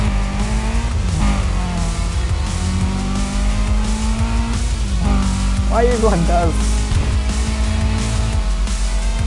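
A car races at high speed in the video game Need For Speed Undercover. A loud engine drones throughout, and a brief tire squeal rises near the end while someone talks over it.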